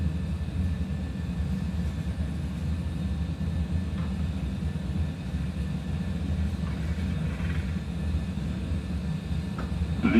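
Airliner jet engines spooling at takeoff thrust in a flight simulator, a steady loud low roar with broadband rumble running unbroken throughout, no voices.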